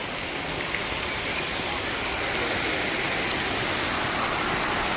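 Water pours down a staircase waterfall in Funchal, Madeira, a dense, steady rushing hiss that stays loud and even throughout with no talking.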